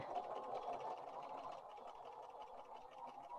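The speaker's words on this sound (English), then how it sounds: "now I'm going to just sew, and I'm going to go down on my stitch length a little bit." A sewing machine stitches a seam at a reduced stitch length, its motor giving a steady, even mechanical whir throughout, quiet and near, with no talking.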